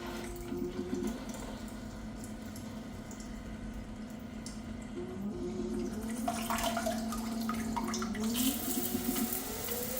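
The rear nozzle of a Crown electric bidet seat sprays warm water in a steady hissing stream, with a low motor or pump hum underneath that shifts pitch as the flow changes, growing brighter toward the end.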